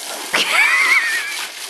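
Water is thrown outdoors to wash mud off a person: one sharp splash, followed by a long, shrill, wavering cry from a voice close by.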